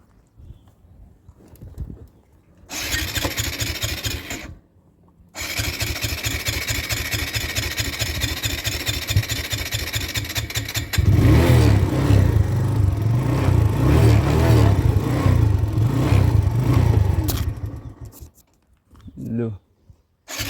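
A motorcycle engine fires up briefly, cuts out, then restarts into a steady idle before revving louder and rougher for several seconds and shutting off.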